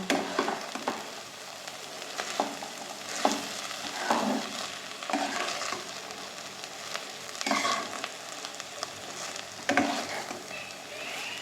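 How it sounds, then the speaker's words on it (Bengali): Cooked rice being stirred into a prawn biryani masala in a pan, giving a soft steady sizzle with irregular scraping and pushing strokes of a spoon, close by and moderately loud. "মশলাটার সঙ্গে একটুখানি ভাতটাকে এটাকে নাড়িয়ে নেব"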